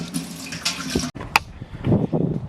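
Hydrogen peroxide pours into a pot for whitening a European skull mount, a loud close splashing stream that breaks off briefly, then resumes with gurgling and sloshing as the pot fills.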